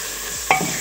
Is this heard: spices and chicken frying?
yes